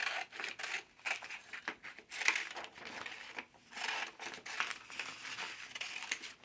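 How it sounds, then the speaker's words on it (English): Scissors snip through paper photocopies of photos while cutting out paper dolls, a run of close, crisp crinkly cuts and rustles at a fairly steady pace with no talking. "And again, just cut them out."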